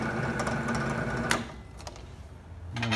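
Schulz Pratika FSB 16 P bench drill with a bit fitted, running with a steady mechanical hum and rattle that drops in level halfway through and then rises again near the end, alone and close.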